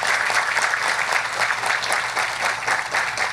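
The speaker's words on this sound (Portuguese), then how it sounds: "aplausos para a iniciativa" Steady, dense applause from an audience at a forum on tobacco production sustainability, continuous and fairly loud throughout without any pauses.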